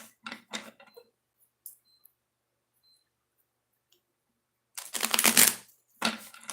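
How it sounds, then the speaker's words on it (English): Tarot cards shuffled by hand, a few quick riffling bursts at the start, then a long loud shuffling burst near the end followed by a short final one, with quiet gaps between. "Had to do one more shuffle."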